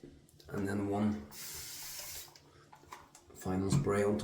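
Water sprayer misting onto shaving lather during a wet shave: a soft hissing spray of about a second between stretches of quiet speech.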